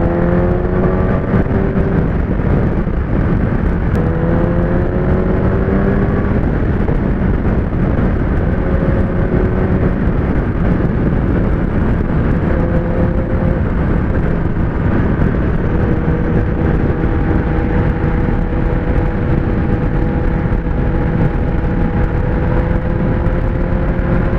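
Kawasaki ZX-10R sport motorcycle at full power, a loud sustained engine roar that climbs in pitch through repeated gear changes, steady and close, with strong wind noise and no talking.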